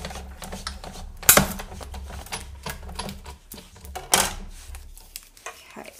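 A die-cutting machine rolls a cutting plate through for a triple heart easel card, making a steady mechanical clatter with a couple of sharper clunks. Fairly close, with no talking.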